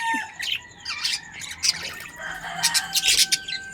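Pet lovebirds squawk and tweet loudly and close by, a busy stream of shrill chirps and harsh calls overlapping with no pauses and no talking.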